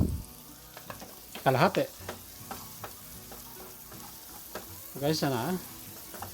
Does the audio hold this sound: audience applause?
no